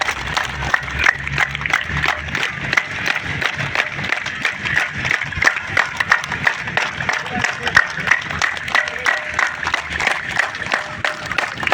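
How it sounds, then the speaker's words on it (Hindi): Crowd at an Independence Day celebration in a park claps in unison, a steady rhythmic beat of many hands held for several seconds, with voices murmuring underneath. "ताली की आवाज़ एक होनी चाहिए"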